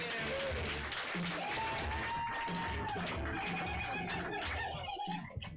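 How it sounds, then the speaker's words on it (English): Audience claps as improv comedy players return to the stage, a fairly quiet spread of clapping mixed with crowd murmur and a few voices, tapering off at the end. "Clap for them as they come back in."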